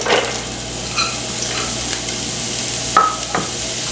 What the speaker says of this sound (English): now that we have our olive oil heated in our deep pan over medium-high heat, we're going to add our diced carrots